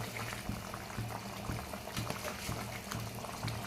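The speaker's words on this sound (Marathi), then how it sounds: "आता मटणला छान एक उकळी आलेली आहे" A pot of mutton curry bubbles at a steady boil, with soft repeated gurgles and pops about every half second over a low, constant simmering hiss.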